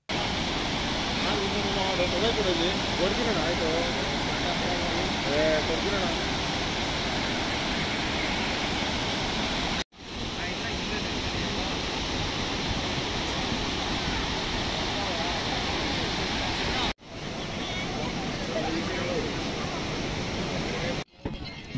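Heavy, high-volume water crashing at Barachukki Falls, a dense continuous roar close by that fills the whole scene, with brief cuts breaking it near the end.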